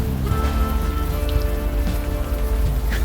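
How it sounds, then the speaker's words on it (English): Rain falls on city streets in Unavowed, a dense, steady patter of drops on hard surfaces with a low rumbling bed beneath, continuous and close throughout with no voices. "You're walking the streets in the rain"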